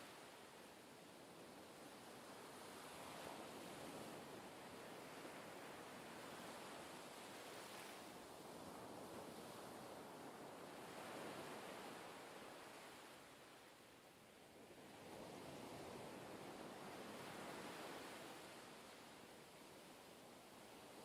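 Ocean waves wash up and recede in a steady, ever-repeating rhythm, a broad continuous surf roar that swells and eases every few seconds, fairly close and alone with no voices.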